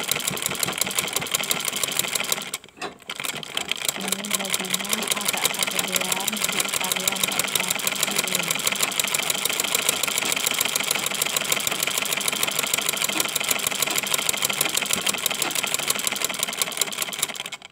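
A sewing machine stitches along a fabric edge while a top is turned into a long dress. It runs with a fast, even mechanical rattle, close and loud, pauses briefly once and then continues steadily.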